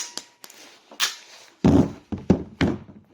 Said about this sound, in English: I'm just going to use a basic crimper here, basic crimping tool.